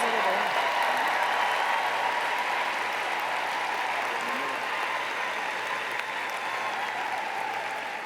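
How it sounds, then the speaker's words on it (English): Continuous crowd applause at an emeritus debut ceremony as members stand, a dense, even wash of clapping lasting around eight seconds with some murmuring beneath it. "Let's give them a huge round of applause and thank them for supporting their debuting Emeritus."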